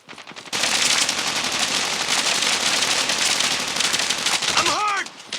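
Sustained automatic assault rifle fire in a video game, a loud continuous rattle of shots lasting several seconds before cutting off, with a short voice-like sound right at the end.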